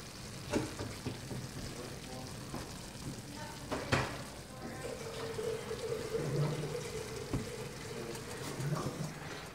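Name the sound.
chop suey stir fry sizzling in a pan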